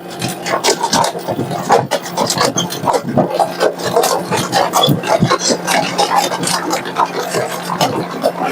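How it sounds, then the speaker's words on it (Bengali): A lever-operated press built from an engine part crushes plastic bottles, giving a steady, loud rasping and grinding with crackling rubs and scattered knocks that continue throughout. "এখন আমাদের এই বোতলের মাল চাপ দেওয়া হবে। এটা হলো লিভার মেশিন।"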